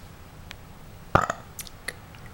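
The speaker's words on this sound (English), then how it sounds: "There you go. A burp." A single short burp sounds near and fairly soft against a low background hum, followed by a couple of faint small clicks.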